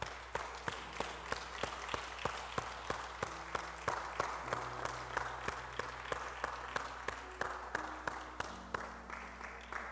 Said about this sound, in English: Let's give him a clap offering.